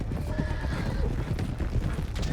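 In Red Dead Redemption 2, a stallion neighs while hooves clop steadily on the ground, loud and close over rumbling outdoor game ambience.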